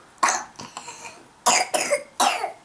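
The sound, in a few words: cough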